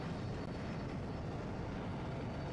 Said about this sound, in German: War das ein Jet oder nicht?